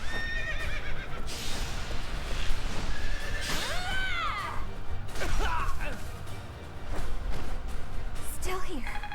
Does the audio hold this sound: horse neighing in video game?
yes